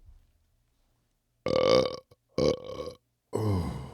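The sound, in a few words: person burping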